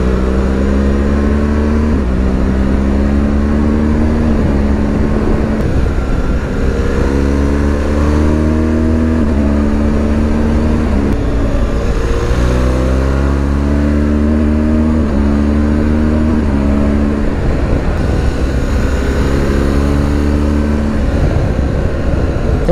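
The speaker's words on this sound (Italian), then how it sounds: "Il motore è ricco di coppia, si può accelerare anche a basse velocità alle marce più alte, che riprende senza esitazioni." BMW R1200 GS Rallye motorcycle engine pulling hard on a test ride, a loud, continuous boxer drone rising in pitch through repeated gear-by-gear surges, with steady wind rush and no talk.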